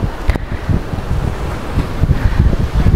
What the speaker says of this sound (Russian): Так здесь хорошо продувается ветром, так прохладно, просто сказка.